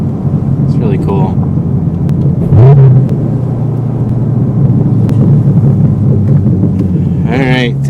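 A Corvette C6 fitted with a skip-shift bypass drives along, its engine a loud, steady low rumble heard from inside the car, with brief voice sounds rising over it.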